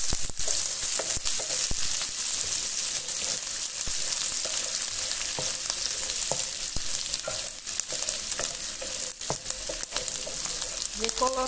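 A small onion sizzles and fries in a Philco Redstone PPE04FS electric pan, a steady loud hiss with occasional stirring clicks and scrapes throughout, no talking.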